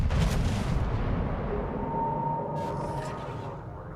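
Tank cannon shots in a tank battle game: a heavy boom at the start trailing into a long rumbling decay, with faint distant shots later under the fading noise.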